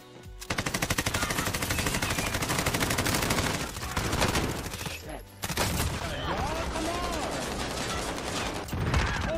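Rapid automatic gunfire from the video game Warzone rattles in sustained bursts, then breaks off and resumes with scattered shots and game effects, while players speak over the action.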